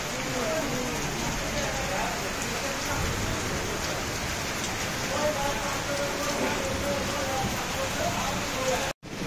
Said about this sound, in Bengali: তো দেখেন বৃষ্টি হচ্ছে।